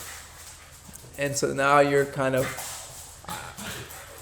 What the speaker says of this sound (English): sorry for the background noise, my dogs are playing with each other